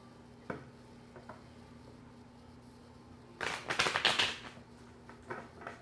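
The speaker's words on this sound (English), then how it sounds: "I'm going to shuffle 2 more times." Tarot cards are shuffled in quick bursts of crisp riffling and tapping, close and fairly loud for about two seconds after a quiet stretch with a few faint taps.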